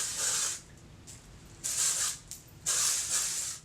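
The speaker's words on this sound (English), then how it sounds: "I will just start to lift up layers and just spray everywhere." Texturizing hair spray hisses from an aerosol can in three bursts, each lasting about half a second to a second, with short pauses between them, close and fairly loud.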